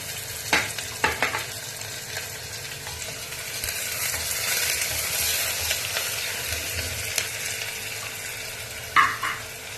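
Chopped onions, curry leaves and cumin sizzle in oil for a Telugu-style ivy gourd curry, a steady close frying hiss broken by a few sharp clinks of a spoon stirring the pan.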